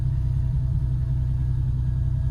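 A Lexus SC300 with a new exhaust and headers idles with a low, steady engine rumble heard from inside the cabin.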